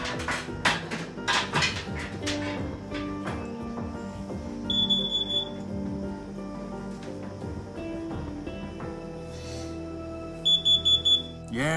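A carbon monoxide alarm chirps in short high beeps in a home, recurring in brief bursts over background clatter and movement noise.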